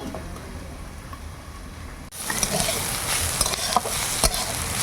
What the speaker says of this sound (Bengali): এটাও ঢাকা দিয়ে দিয়ে ভাজবো।